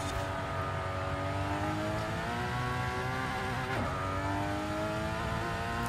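A tuned Toyota Supra engine in a racing video game holds a loud, steady high-rev whine, with one brief stutter midway as it bounces off the rev limiter. No voices.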